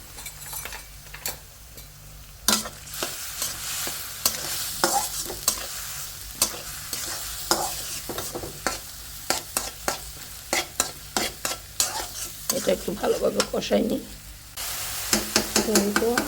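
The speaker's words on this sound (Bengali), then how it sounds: "আদাটা আর হলো এটা কষাই নিছি" Ginger, cumin and garlic paste sautéing in a pan, heard as a steady frying sizzle under frequent close scraping and clinking of a spoon stirring against the pan.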